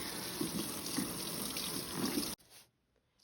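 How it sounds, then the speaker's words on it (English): Running tap water rinsing soap off a Cricut cutting mat, a steady broad splash and gush that continues for a couple of seconds before cutting off abruptly, leaving a few faint drips. "give it a rinse, get all the soap off"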